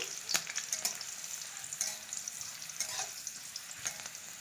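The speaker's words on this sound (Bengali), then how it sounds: "কাঁচা লঙ্কাটা তেজপাতাটা ভালো করে ভেজে নেব।" Green chilli and bay leaf fry in hot oil with a quiet, steady sizzle, broken by a few sharp spatters and scrapes of stirring.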